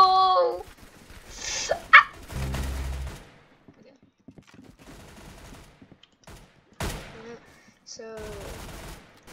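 Bursts of rapid automatic gunfire in Roblox Arsenal crackle in short clusters, loud and close, separated by quieter gaps, with a person briefly talking between them.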